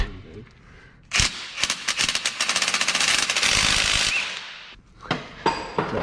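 An impact wrench working bolts on a 1972 Monte Carlo with a supercharged LSA engine, a loud close burst of rapid rattling hammering lasting about three seconds, then a few short sharp hits, with some talk nearby.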